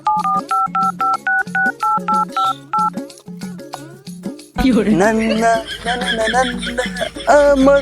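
Telephone keypad dialing tones beep in a quick, evenly spaced series, loud and close, then stop and give way to a burst of other sound with a voice.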